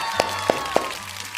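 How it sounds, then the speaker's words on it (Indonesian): Three evenly spaced hand claps ring out close by in a quiet room, each short and crisp, with little else behind them. "tepuk tangan dulu"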